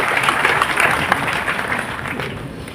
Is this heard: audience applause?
yes